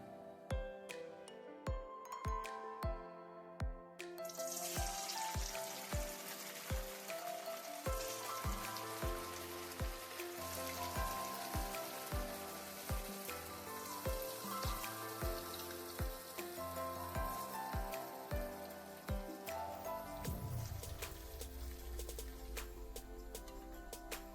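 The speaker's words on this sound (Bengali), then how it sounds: "এবার তেল গরম করতে দিয়েছি এবার পুলিগুলো ভেজে নেবো" Moong dal puli pitha sizzle in hot oil, a continuous crackling hiss that sounds almost like rain, with sharp periodic clicks and taps over the frying throughout.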